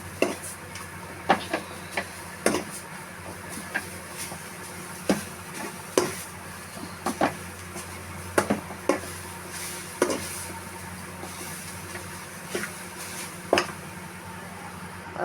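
A spatula stirs grated coconut into sautéed carrot puttu in a pan, giving sparse, irregular scrapes and sharp taps against the metal over a quiet background murmur of cooking.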